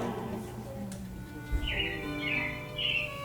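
Light animatronic robin chirps sound in short bursts against a low background hum in Walt Disney World's Carousel of Progress show, a few bright calls repeating near the end.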